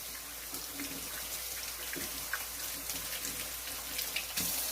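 A lemon is rinsed under a running kitchen tap, a steady broadband water rush lasting throughout with small splashy bumps as the fruit moves in the stream; no talking.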